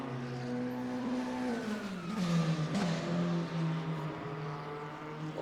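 Race car engine in the RaceRoom racing game at Watkins Glen, a steady harmonic drone that drops in pitch on a downshift and then holds at a lower tone, close and continuous throughout.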